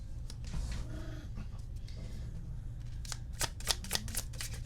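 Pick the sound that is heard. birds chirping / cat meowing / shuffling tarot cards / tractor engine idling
shuffling tarot cards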